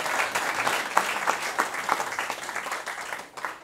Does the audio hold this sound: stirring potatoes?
no